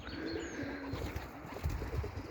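Pigeons during a flying display, faint low cooing over quiet outdoor background, brief and soft.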